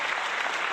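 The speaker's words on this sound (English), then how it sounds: "Let's get some clapping in here." A short burst of dense, even clapping from a crowd of many hands, used as a sound effect, steady and bright for under a second with no gaps.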